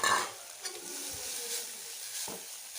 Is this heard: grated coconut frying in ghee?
yes